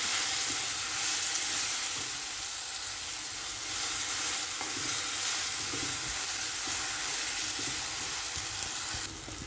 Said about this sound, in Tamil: இது எல்லாத்தையும் இப்போ நம்ம நல்லா வதக்கி விட்டுக்கலாம்.